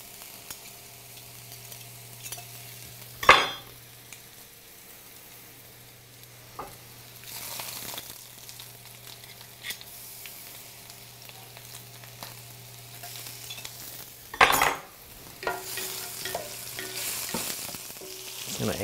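Duck and garlic skins sizzle steadily in a hot pan, broken by a few loud stirring scrapes and clatters, with the frying hiss running continuously underneath.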